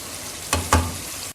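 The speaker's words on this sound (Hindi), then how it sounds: "ये 2 मिनट हमने मसाले को पकाया है टमाटर में" Masala spices cooking in tomatoes in a handi for chicken tikka, giving a steady soft sizzle with two brief louder stirring scrapes near the middle, then cutting off abruptly.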